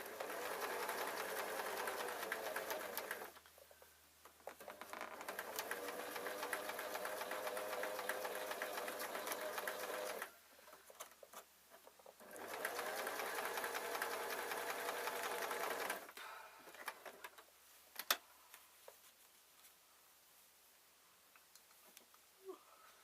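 A sewing machine stitches the top of a fabric slipper bootie in three steady, even bursts separated by short pauses, then goes quiet apart from a few light ticks and knocks.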